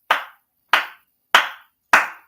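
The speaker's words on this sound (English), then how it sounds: "I got to fucking slow clap both of these dudes" Four slow, deliberate single hand claps, evenly spaced about two-thirds of a second apart, sharp and close with silence between each.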